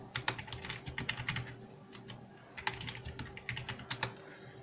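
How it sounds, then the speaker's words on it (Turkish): Rapid bursts of keystrokes on an Everest GX6 RGB keyboard, advertised as mechanical, typed close up with irregular pauses between runs and no talking. "Birkaç şey yazacağım."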